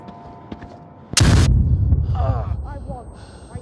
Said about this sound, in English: You just threw a random smoke grenade.